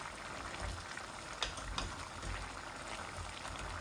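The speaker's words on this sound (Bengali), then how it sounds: "আমি এখন জল দিলাইম।" Water pours into a pan of chitol fish head curry with bean seeds, bubbling and sizzling at a steady simmer with a few brief splashes, close and moderately loud.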